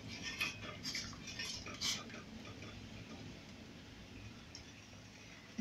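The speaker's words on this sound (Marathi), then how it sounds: "दूध टाकल्यानंतर पुन्हा एकदा आपण इथे चमच्याने हे ढवळून घ्यायचं आहे." A spoon stirs milk tea for Mumbai-style cutting chai, its metal clinking against the vessel in quick light taps early on, then fading into a soft steady background until a sharp knock at the end.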